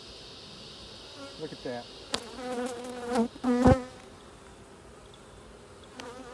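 Honeybees buzz steadily around an open hive, with a few louder passes close by and a brief spoken remark.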